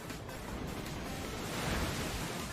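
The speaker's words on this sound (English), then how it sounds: "Muddy Water comes out" Muddy Water move effect from a Pokémon battle game: a dense, steady wash of surging watery noise, loud and unbroken, swelling slightly toward the end with no voices.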